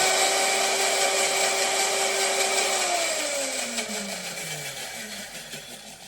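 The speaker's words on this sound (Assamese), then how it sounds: "3 চামুচ দিব, দি মিক্সাৰ জাৰটো মাৰি দিব।" A mixer grinder jar blending an ice cream mixture whirs loudly at a steady high pitch, then its motor winds down and slows toward a stop.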